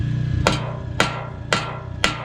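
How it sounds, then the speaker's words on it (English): Four evenly spaced metallic strikes, about half a second apart, as a hammer hits a welded metal joint during testing, each ringing briefly with a clear tone close by. "When I hit it like this, it tapers in."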